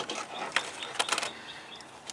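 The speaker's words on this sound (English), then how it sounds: "Grab your extension, spark plug socket." Faint clicks and rattles of a ratchet fitted with an extension and spark plug socket work on the 2.4-liter engine of a 2008-2012 Chevy Malibu, a few brief close clicks over a soft steady background.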